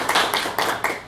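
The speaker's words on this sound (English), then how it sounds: "Now, I appreciate that you've applauded for this game." Short burst of audience applause for the board game Flux, dense clapping in quick bursts, close and fairly loud.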